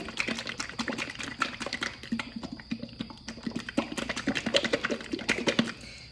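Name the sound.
stirring thin liquid paint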